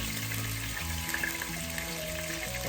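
Pork belly pieces browning in a hot pan give off a steady, close sizzle that holds at an even level throughout, with soft tonal sounds beneath it.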